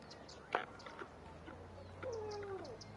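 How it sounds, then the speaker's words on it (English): A house cat gives a single soft, drawn-out meow near the end, faint and close, preceded by a brief click and light background noise. "Do you hear this cat?"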